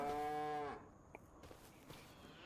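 A cow moos once in a field, a loud, drawn-out low call lasting under a second, followed by quiet outdoor ambience with faint scattered sounds.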